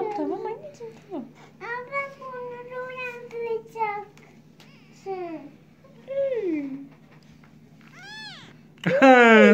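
Abandoned newborn kittens, taken indoors and fed cat food, mew repeatedly in thin rising and falling cries, close by, with soft talk in between and a louder burst at the end.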